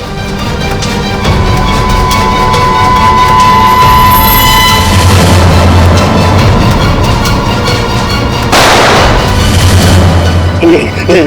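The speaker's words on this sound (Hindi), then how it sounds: "गन तो उड़ गई, सीआईडी उड़ गई।" An explosion blowing up a gun in a CID TV drama, a loud booming blast and rumble mixed with dramatic music, followed by a second burst of noise near the end.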